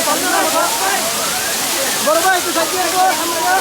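The Jaflong waterfall in Sylhet rushes in a loud, continuous roar of falling and splashing water, with people talking over it.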